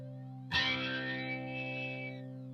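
A guitar through a Behringer SF400 Super Flanger pedal: one strummed chord rings out with a subtle sweeping, swirling flange shimmer and slowly decays, played alone with no talking.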